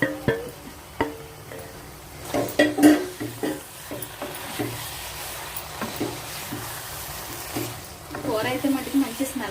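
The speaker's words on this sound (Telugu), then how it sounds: "ఇగోనండి, వంకాయ ముక్కలు కూడా వేసేస్తున్నాను." Brinjal pieces hit a hot pan of oil for a curry, giving a close, steady sizzle and frying hiss broken by stirring clinks and utensil scrapes, with a little speech in the background.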